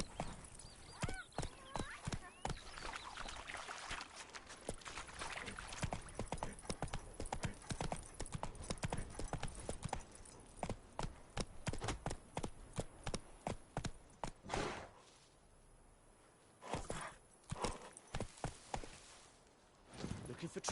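Roach the horse's hooves clip-clop in The Witcher 3: Wild Hunt, a steady rhythmic trot that fills most of the stretch before slowing to scattered, sparser steps, with a spoken line over it.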